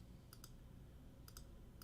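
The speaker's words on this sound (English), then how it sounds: "It's fucking mouse clicking." A cheap computer mouse gives paired, faint clicks, three double-clicks spread over a steady low background rumble.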